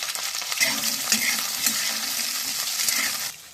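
Onion, capsicum and chopped chilies fry in hot oil in a wok, giving a loud, steady sizzle with stirring scrapes throughout, fading at the end.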